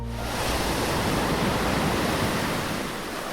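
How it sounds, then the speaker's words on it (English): Sea waters rushing back in a steady, loud broadband roar of surf and wash that holds constant for a few seconds with no voices. "the water rushed back into its usual place"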